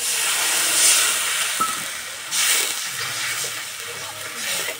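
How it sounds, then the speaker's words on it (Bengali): Water hits hot spices just fried in a pan, a loud steam hiss and sizzle that surges, eases, then flares again briefly before settling into a softer hiss, with no voices. "এবার এই বাটি 1 বাটি জল দিয়ে দেবো।"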